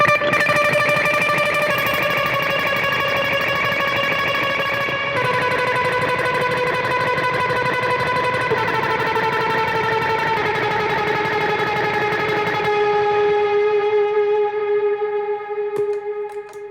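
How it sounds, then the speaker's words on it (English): Aggressively played electric guitar with overdrive, a boost, and washes of echo and reverb, dense sustained notes shifting slowly downward for over fifteen seconds before trailing off, no talk. "I'm going to play it really aggressive. I'm going to turn on a little bit more overdrive"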